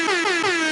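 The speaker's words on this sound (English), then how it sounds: "Where's the air horns, Pat? The air horns." A short, loud air horn sound effect blasts in three quick pulses, its sustained blaring tone filling the whole moment on its own.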